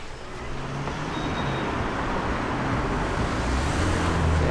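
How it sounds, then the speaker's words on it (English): Cars roll along a village street in Hartfield, East Sussex, a steady close traffic rumble that builds gradually as vehicles pass, with no talking. "Stream of cars always in the way, yeah."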